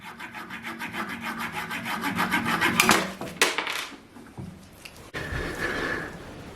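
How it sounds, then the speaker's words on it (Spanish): Plastic lens handles are cut with a small hand saw, quick rhythmic rasping strokes that build in intensity, then a few louder scrapes and a snap before softer rubbing, close up with no talking. "A las lentes les cortamos el mango con una pequeña sierra."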